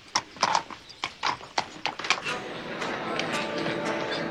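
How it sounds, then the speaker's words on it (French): Hooves of a black stallion clip-clop in a quick, uneven run of close strikes, then a whinny rises and carries on as a drawn-out neigh with some background voices. "Le cheval que vous avez devant vous est certainement l'étalon noir le plus célèbre du monde."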